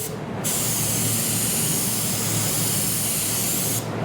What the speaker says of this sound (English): when you're spraying, you keep it moving